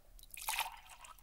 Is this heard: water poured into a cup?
yes